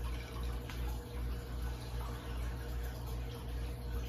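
Cold water poured into pie dough for a pumpkin pie, a steady close trickling and splashing flow that continues throughout.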